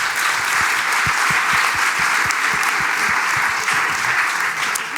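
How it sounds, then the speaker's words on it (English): A hall audience applauds steadily for a woman being introduced at a brand presentation event, with dense, sustained clapping filling the whole stretch at even loudness, no talk over it. "Please give a warm round of applause to Zinzi de Brouwer."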